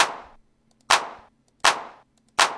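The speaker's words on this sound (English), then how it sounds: "What a nice clap." A crisp, snappy clap sample from the DUB Turbo beat maker repeats four times at an even, looped pace, each hit sharp with a short decaying tail and silence between.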